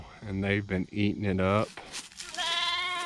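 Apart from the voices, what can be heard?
goats bleating on a farm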